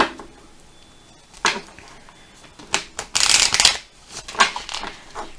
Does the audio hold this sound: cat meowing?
no